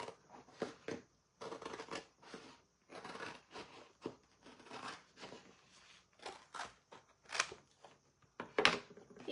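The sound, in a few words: cutting a sign carefully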